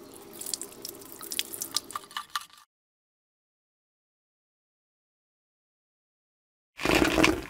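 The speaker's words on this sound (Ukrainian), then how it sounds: "Промиємо в проточній воді." Small brass fishing lure parts on a wire rinsed under running tap water after chemical polishing, a close splashing stream with dripping, cut off by silence and then resuming loudly at the end.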